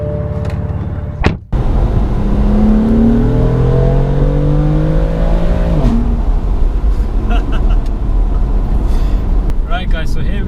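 Inside a BMW F80 M3 car, the engine revs hard with rising pitch sweeps that climb and drop back between shifts, loud and close, while someone talks over it.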